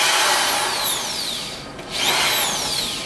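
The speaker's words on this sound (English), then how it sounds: "drilling 2 holes in every one of the large knobs and 1 hole into the smaller ones" A power drill bores holes into the rubber knobs of a motocross tire, a steady high whine that dips briefly mid-way as one hole finishes before spinning up again, close and loud.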